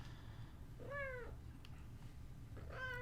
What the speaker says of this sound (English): My cat is sharing her opinion about the situation.